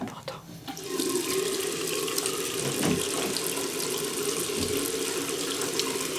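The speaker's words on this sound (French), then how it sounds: "J'allume l'eau chaude parce que elle met trop de temps à chauffer." Hot water running steadily from a household tap into a sink, a continuous rushing splash at moderate level after a brief quieter start, with faint background voices.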